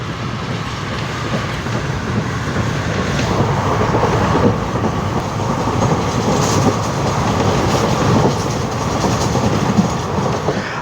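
A train rumbles steadily along the tracks past the sea with continuous rolling noise and faint rhythmic clatter, loud and close throughout, with no voices, on the route toward Mandapam and Rameswaram.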